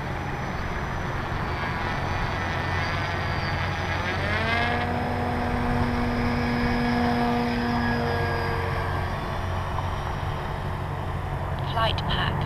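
A radio-controlled Apprentice S 15e model airplane taxis, its electric motor whining steadily and rising in pitch through a throttle-up before easing off, over constant outdoor background noise.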